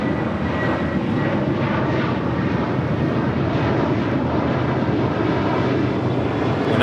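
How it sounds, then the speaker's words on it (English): Air France Boeing 777-300ER jet departing LAX, a steady loud broadband engine roar that holds throughout without a break, with no talk over it. "Air France, hey look, we're getting Air France. The 777-300ER is a Southside departure."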